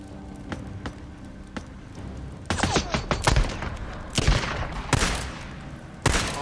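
Gunfire in the video game Days Gone, with a few scattered shots followed by dense bursts of rapid, loud firing and heavy impacts, close and punchy.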